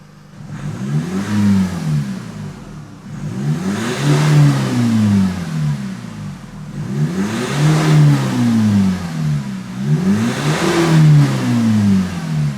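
A remapped Nissan X-Trail with EGR and DPF deleted and a loss-of-power misfire around 3000 RPM, revved repeatedly: four loud, close rising and falling engine sweeps in a steady rhythm, with no voices.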